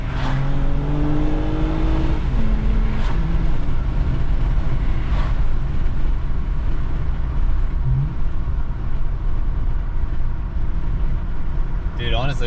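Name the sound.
2021 Toyota Camry TRD engine revving on a downshift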